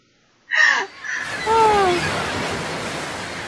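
Ocean waves washing steadily around a ship's deck at night, a soft, continuous surf hiss that settles in after a brief sharp bird cry and a few drawn-out calls, with no talking.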